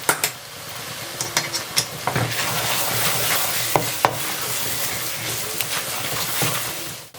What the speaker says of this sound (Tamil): அதை வந்து இந்த குழம்புல மிக்ஸ் பண்ணிடலாம்